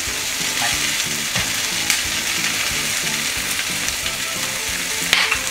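Cucumber sizzles steadily in a pan with a couple of teaspoons of sesame oil, a loud, continuous frying hiss with faint stirring scrapes and no one talking.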